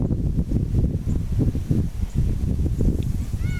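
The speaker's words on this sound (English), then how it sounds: "It's kind of windy." Loud buffeting wind battering a microphone, a continuous low rumbling roar with gusty surges throughout.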